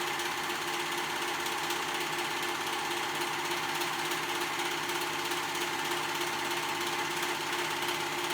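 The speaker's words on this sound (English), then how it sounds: "we're gonna sew that raw edge together" A sewing machine runs steadily as it sews the raw edges of children's pants fabric together, a continuous even mechanical whir at close range with no pauses.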